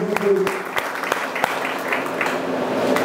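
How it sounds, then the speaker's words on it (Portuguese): Scattered applause rises in a hall during a solemn civic session honoring the Coxipó da Ponte district, individual claps audible amid a murmuring crowd and voices. "a salva de palmas para essa parceria tão importante do movimento."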